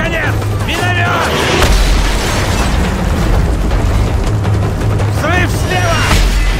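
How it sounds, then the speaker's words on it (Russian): Mortar blasts in Call of Duty: Modern Warfare 3 boom over continuous gunfire and battle noise, with heavy low impacts recurring amid the chaotic combat mix. "Взрыв слева!"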